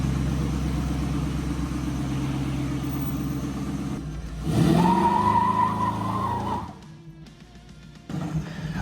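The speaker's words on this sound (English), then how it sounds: "Oh, it does a better skid than Hot Rod Nick's one anyway." A tunnel ram roadster rumbles loudly nearby, then its tyres break into a squealing skid as the engine revs hard. The noise drops off sharply before the engine picks up again at the end.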